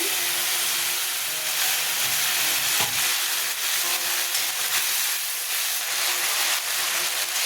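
Ginger-chili paste hitting hot oil already tempered with dried red chili, bay leaf and cumin, giving a steady, bright sizzling hiss that carries on evenly throughout, close and fairly loud, with no voices.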